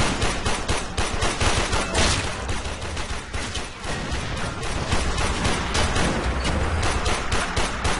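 Dense, continuous bursts of automatic assault rifle fire in the sci-fi shooter game Warframe, loud and unbroken for the whole stretch with no talk over it.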